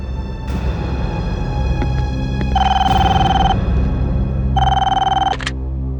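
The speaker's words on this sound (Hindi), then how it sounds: "फोन करो उसे।" Telephone ringing during a call in a CID crime drama scene, two long electronic ring bursts separated by a short gap over a low background hum, loud and close.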